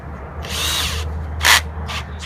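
A power drill gun drives a half-inch zip screw into metal gutter edge, giving a short whirring burst, a brief pause, then a sharper spin as the screw seats, close and loud with nobody talking.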